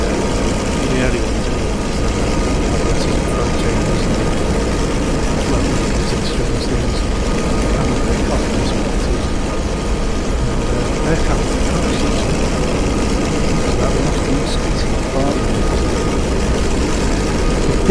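A Messerschmitt Bf 109 with a Daimler-Benz engine drones steadily and loudly in flight over Manston, a continuous low engine roar with no break.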